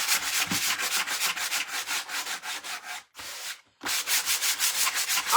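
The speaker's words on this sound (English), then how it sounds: "this actually is just like when you sand wood, it just softens it" A carved faux heart is sanded by hand, giving a loud rhythmic rasping rub of about two strokes a second. One short pause breaks the strokes before they resume steadily, with no talking.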